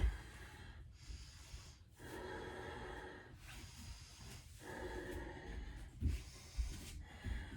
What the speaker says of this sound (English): We're breathing. Nice steady breath.